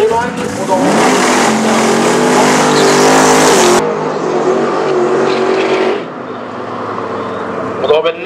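A drag racing car launches at full throttle at a drag strip, a loud, close engine roar with rising revs that holds high for several seconds before shifting and easing off, with an announcer talking over it.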